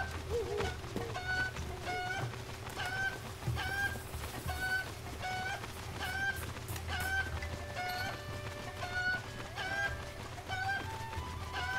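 A cucco chicken in Zelda: Breath of the Wild clucks in short, repeated calls throughout, fairly quiet and steady over a low ambient game hum.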